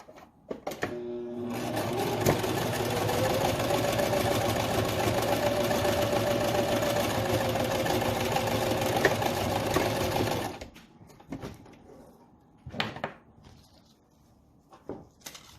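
A sewing machine stitching a fabric face mask, a steady close mechanical whirr running about nine seconds before stopping, followed by a few faint clicks and handling sounds.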